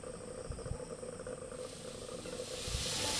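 Vegetables sauté with salt in a hot pan for spicy masala pasta, giving a steady hiss and sizzle that swells louder toward the end, with a couple of low knocks from stirring.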